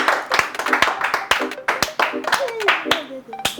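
A small group claps in sharp, uneven bursts of about ten distinct hand claps. Voices talk over it during a Valentine's Day thank-you to viewers.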